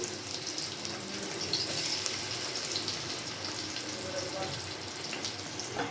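Bombay duck fish heads frying with onion and chilli in a pan, a steady broad sizzle running the whole time with faint clinks and a watery hiss, no talk over it.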